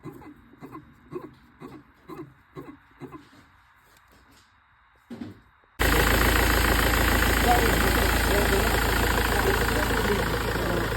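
A BMW X3 engine runs after a water pump replacement, a loud, steady idle that starts abruptly partway through after a stretch of quiet knocking or tapping sounds.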